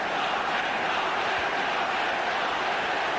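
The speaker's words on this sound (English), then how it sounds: "The Offaly fans cheering their team." Offaly hurling supporters cheer in a packed stadium, a steady, dense roar of crowd noise filling the whole stretch without letting up.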